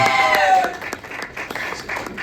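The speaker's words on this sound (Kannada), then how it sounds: "ಜೋರಾಗಿ ಚಪ್ಪಾಳೆ ಬರಲಿ" A crowd applauds loudly for dance masters Murali and Santhu at a KCCL cricket tournament event. The dense clapping is strongest at the start, then thins into scattered claps with some voices mixed in.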